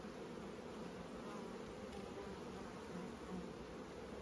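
A steady, dense hum of many honey bees buzzing close by on a hive frame, continuous and unbroken throughout.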